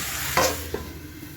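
Chickpeas, potato and spice paste get a quick stir in a pan for a banana-flower ghonto, one short scrape and a soft knock over a low sizzle.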